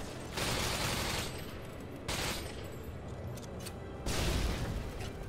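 Video game combat with rocket launcher blasts and gunfire, heard as quiet, muffled bursts of shooting in three clusters separated by calmer stretches.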